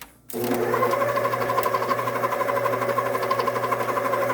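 An electric mixer whirs steadily as it blends Oreo pound cake batter with milk, starting abruptly and then running loud and close with a constant motor hum.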